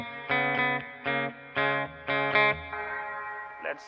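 An electric guitar played through a Laney LV300 amp with the treble turned up for a crisp tone rings out in a series of strummed chords with short gaps, ending on a sustained chord.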